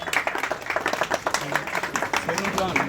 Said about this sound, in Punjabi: ਤਾੜੀਆਂ ਦੇ ਨਾਲ ਸਨਮਾਨਿਤ ਕਰੋ ਯਾਰ